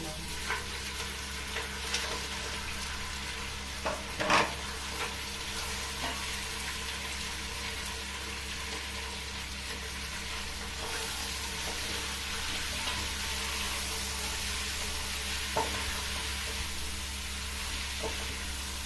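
Onions sizzle and fry steadily in a hot pan, a dense continuous crackle with a few louder stirring scrapes along the way, close and with no one talking.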